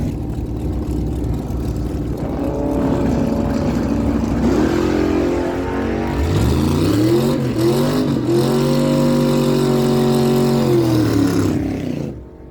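A 1980 Mercury Capri and a 1981 GMC Sierra launch side by side at a drag strip, engines roaring loudly and rising in pitch through gear changes for several seconds before the sound cuts off abruptly.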